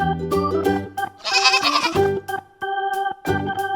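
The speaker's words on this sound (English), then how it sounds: "Goat. They give us milk and meat." A goat bleats repeatedly up close, with loud wavering calls separated by short pauses and no talking.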